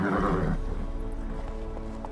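Roach, a horse in the video game The Witcher 3, gallops with a rapid clip-clop of hooves and a brief whinny at the start, loud and close, then settles into quieter steady hoofbeats.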